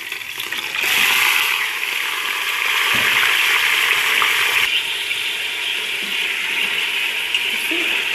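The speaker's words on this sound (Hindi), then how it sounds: "इसको थोड़ा सा भून के फिर इसमें मैं गोश्त शामिल करूंगी और उसे अच्छे से भूनूंगी" Mutton pieces with black cardamom and whole cloves frying in a pot, a loud hissing sizzle that swells strongly after a quieter start, then eases slightly, close by with no voices.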